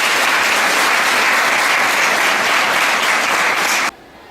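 Loud, sustained applause from a school audience for the principal at a girls' school event, a dense wash of clapping that stops abruptly near the end.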